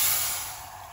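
Water pours into a pan for a homemade paella from a Lidl kit, making a steady close rushing splash that tapers off over about a second.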